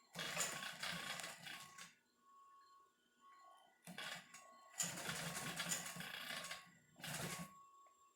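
A Consew 225 industrial sewing machine runs in several bursts of rapid mechanical stitching, separated by short pauses with faint clicks and hum.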